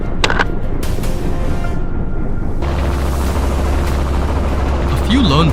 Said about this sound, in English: Our helicopter pursued, swooping in low and tight.